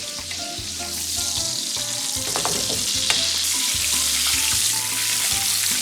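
Flank steak fries in butter in a hot pan, a loud, steady close sizzle with bursts of spatter as the meat is turned.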